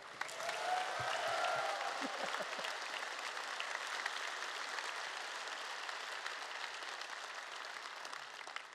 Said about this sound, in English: Another one. Applause for them.